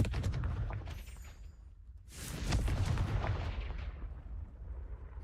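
A Confringo fire spell blasting in Hogwarts Legacy, two heavy booming bursts roughly two seconds apart, each swelling into a rumbling, crackling tail that fades slowly.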